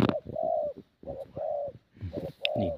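A spotted dove near a bird trap gives three clear cooing phrases, each a short hoarse note followed by a longer sustained coo, close and loud with brief pauses between.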